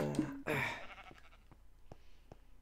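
A sheep in a blocky survival video game bleats twice in quick succession, fairly close and clear, with a few soft clicks and light background sounds afterwards.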